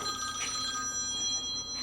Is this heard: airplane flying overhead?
no